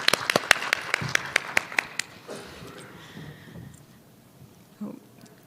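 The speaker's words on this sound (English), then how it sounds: "let's clap for that" Audience at a Rare Disease Week session on Capitol Hill clapping, a burst of sharp claps over the first two seconds that quickly fades, followed by scattered talk.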